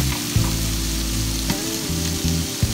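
Cucumber hits a hot wok with a loud, steady sizzle, broken by a few scraping stir-fry strokes and clatters of the spatula, close up with no talking.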